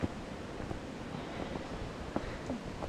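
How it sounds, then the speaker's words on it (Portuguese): Strong wind buffets the microphone on a steep hiking trail near the Portal de Pedra do Pechincha in Taió, Santa Catarina, a steady broadband roar with a few brief gusts and rustles and no talk. "Bastante vento hoje."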